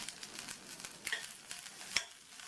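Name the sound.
sautéing chutney ingredients in a kadai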